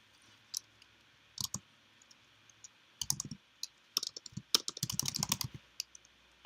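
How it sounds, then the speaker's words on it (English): Keys on a computer keyboard are typed in short irregular bursts of close, crisp clicks separated by brief pauses, with the densest run of keystrokes near the end. "can't type and talk at the same time"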